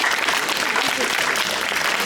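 Audience at a historical ballroom dance festival for the older generation applauding the participants, a dense, steady burst of clapping that fills the whole moment at close range.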